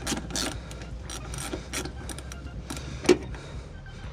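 Ratchet wrench clicking while a bed side panel is removed from a GMC Sierra 1500 Denali pickup with Quadrasteer; a steady run of faint, close mechanical rasping and ratcheting with one sharp click near the end.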